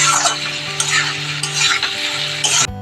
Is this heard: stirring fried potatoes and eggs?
yes